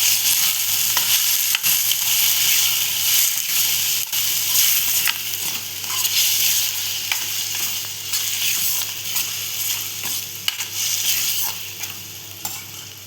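Wet ambadi (sorrel) leaves are stirred and fried in a pan, giving a steady close-up sizzle with soft scraping stir strokes throughout and no talking.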